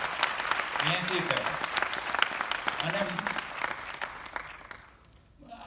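Audience applause at a Gujarati political speech, steady dense clapping under a speaker's voice, fading toward the end.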